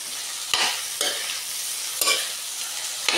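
Egg fried rice sizzles in a pan while a utensil stirs and scrapes it in four distinct strokes, each a sharp scraping burst over a constant soft frying hiss.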